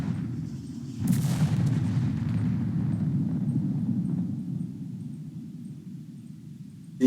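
Artillery fire from the Second Front tactical war game: a sharp boom at about one second is followed by a long rumbling wash of battlefield noise. A second burst lands at the very end.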